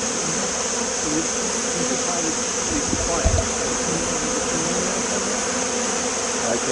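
Honey bees buzz steadily around an open hive during autumn preparation, a dense continuous drone close by with faint background noise throughout.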